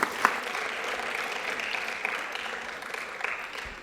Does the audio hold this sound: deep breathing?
no